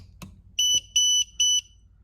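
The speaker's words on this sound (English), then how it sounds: "To test the audible alarm, you just go ahead and press the O real quickly." Two soft clicks as the test button is pressed, then a home gas detector alarm sounds three sharp, high-pitched beeps in an even rhythm, loud and close in a quiet room.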